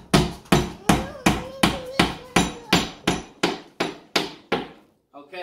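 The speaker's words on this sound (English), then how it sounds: "So you hammer that in" A hammer drives a plastic wall anchor into a wall, eleven sharp, loud, close blows at a steady rhythm of about two per second, then it stops.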